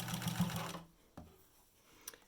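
Sewing machine stitching a zigzag seam across a surgical mask, a steady dense mechanical whir for under a second that then stops, followed by a couple of faint handling taps.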